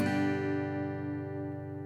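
A single acoustic guitar chord is strummed and left to ring, its full, clear tone sustaining evenly and slowly fading, close and alone.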